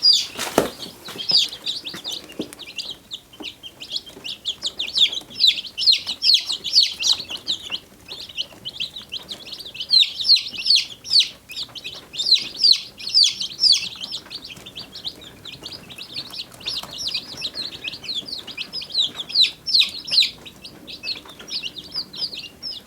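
Baby chicks peeping in their straw-lined shipping container, a dense flurry of high, rapid chirps going continuously and close, rising and falling in loudness, with a brief rustle at the start.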